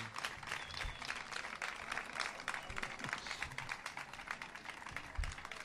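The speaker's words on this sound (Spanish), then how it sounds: "Un aplauso para Fernando." A crowd at a radio show celebration gives sustained, moderately faint applause, a dense patter of clapping with a few low thumps, steady throughout.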